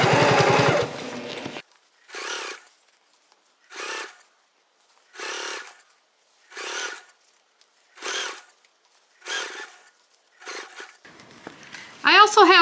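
A sewing machine topstitches cork fabric on a shoulder bag in a run of eight short, evenly spaced bursts, close and clear, with a louder stretch of handling noise at the start and end.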